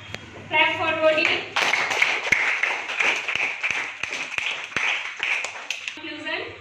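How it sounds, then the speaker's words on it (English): Audience applause at a school quiz competition on a harvest festival, a burst of clapping filling most of the stretch between short spoken announcements at the start and end. "Clap for row D."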